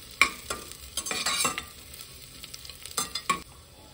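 Chopped onion frying in ghee with a bay leaf and garlic in a soup pot, with a soft sizzle under a series of clattering spoon stirs in irregular bursts, no talking.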